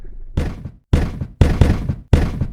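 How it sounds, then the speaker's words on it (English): Heavy fists pound on a wooden door in a rapid series of four or five loud, close thuds, each blow booming and separated by short gaps, with no voices. "a succession of violent blows shook the door"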